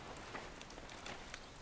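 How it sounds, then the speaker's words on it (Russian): Rain falls as a soft, steady patter with scattered drop impacts, faint and even throughout with no voices. "Смотри, дождь почти закончился."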